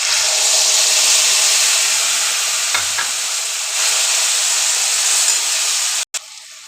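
Spices spluttering in hot oil while frying for a pumpkin curry, a loud, steady close sizzle with scattered pops, cutting off abruptly near the end.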